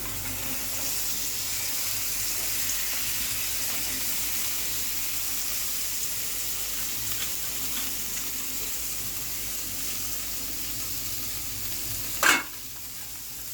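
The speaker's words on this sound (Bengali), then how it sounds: "বাঁধাকপিটা এটাতে ঢেলে দেব।" Cabbage sizzling steadily in hot oil in a pan for Bengali cabbage sabzi, a constant hissing fry with faint clinks underneath and one brief sharp clatter near the end.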